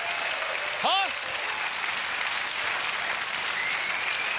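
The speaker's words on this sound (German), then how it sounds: "Applaus!" Steady, dense applause from a TV studio audience on a German late-night talk show, continuous and close throughout, with a brief voice rising over it near the start.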